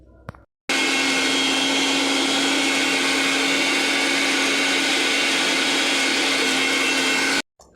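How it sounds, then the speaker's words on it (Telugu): An electric mixer grinder whirs loudly and steadily while grinding coconut for peanut chutney, a harsh high-pitched motor roar that starts abruptly, runs for about seven seconds and cuts off, with brief quiet handling before and after. "ఇప్పుడైతే మిక్సీ అయితే పట్టేసి పల్లి చట్నీ అయితే చేసేస్తాను."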